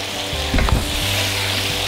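Baby potatoes sauté in a pan with grated jaggery, salt and red chili powder, giving a steady close sizzle with a few stirring bumps midway.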